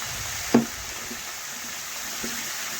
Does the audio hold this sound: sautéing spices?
yes